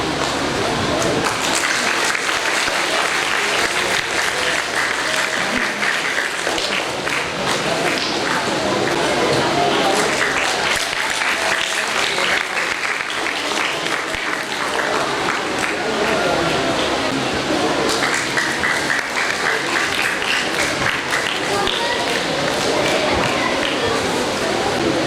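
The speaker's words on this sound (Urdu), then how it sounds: "زور سے تالیاں بجائیے" A large crowd at a school foundation educational exhibition applauds continuously for the full stretch, dense steady clapping that stays loud and even, with voices mixed in underneath.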